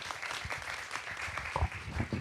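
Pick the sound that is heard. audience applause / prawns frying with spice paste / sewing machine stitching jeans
audience applause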